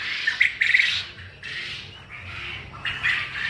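Quail on a farm, a flock of 48-day-old laying birds, give sharp, close squawking calls in short clustered bursts, with quieter chirps between and no talking.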